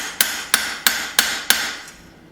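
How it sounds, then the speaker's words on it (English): Five evenly spaced light hammer taps ring on a thin forged knife blade as dents are knocked out, close and crisp, fading after the last blow. "Just doing some light hammering, getting some dents out."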